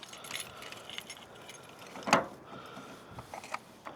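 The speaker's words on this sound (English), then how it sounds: "Now this one does come with 4 keys." Keys for a Rhino USA trailer hitch coupler lock kit jangle close up, with light metallic rattles and one louder clinking burst in the middle. Nobody speaks.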